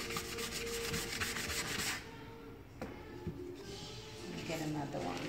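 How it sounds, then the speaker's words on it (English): Furniture painted with chalk paint is given a very light sanding by hand, making close, steady scratchy rubbing strokes that pause briefly and resume, while a person talks over it. "This is a very light sand."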